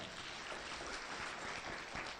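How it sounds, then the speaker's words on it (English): An audience at a World Anti-Corruption Day event claps in a dense, continuous wash of applause, faint and distant, with no pauses. "why are you clapping and he's not even here yet?"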